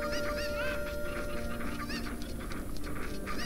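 Chickens clucking in the video game Zelda Ocarina of Time, a steady run of close, busy fowl calls over a constant game-music backdrop with no talking.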